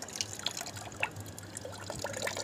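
Water drains and dribbles out of rasgulla, the chhena dough balls, during preparation in a kitchen, heard as faint trickling with scattered close drips and splashes, quiet and irregular, with no talking over it.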